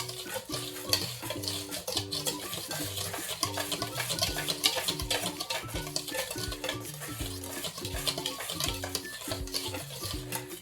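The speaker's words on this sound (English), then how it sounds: "Then we're just going to whisk that up." Flour, baking powder and baking soda whisked together in a bowl for pancakes, a steady rapid rhythmic scraping and tapping of the whisk, close and continuous with no talk.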